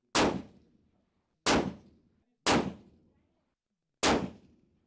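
Four loud, sharp rifle shots ring out from a Steyr Scout bolt-action rifle. They are spaced roughly one to one and a half seconds apart, and each crack decays quickly into a short echo, with near silence in between.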